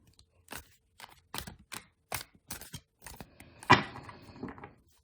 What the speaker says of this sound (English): Another little shuffle.